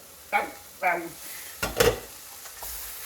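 Vegetarian risotto in a pan on very low heat, with a spoon scraping and stirring in a few separate close strokes over a faint simmering sizzle, no talk.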